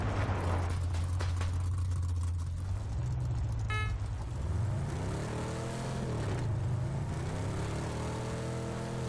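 A car in the PUBG video game drives with a steady engine drone that rises and revs as it speeds up, running loud and close throughout with no talk over it.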